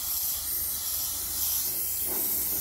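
Spray gun hissing steadily while a primer-like first coat goes onto the front bumper of a Tofaş car, a continuous close airy spray with no talk over it.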